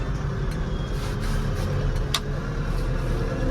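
A Landini 5-120rs tractor engine runs under load in third range, second step, as the throttle is pushed, giving a steady, loud, dense diesel roar close by with no talk.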